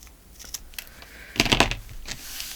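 Scissors cut through journal-making material in a short, close burst of rustling snips midway, surrounded by soft handling and paper noise.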